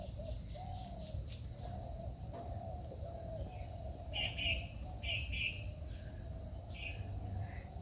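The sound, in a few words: pigeons cooing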